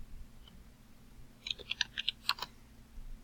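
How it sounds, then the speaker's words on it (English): A burst of light clicky keystrokes on a computer keyboard, tapped in a quick uneven cluster of about eight presses, quiet and close over a low steady hum. "So if you hear me typing"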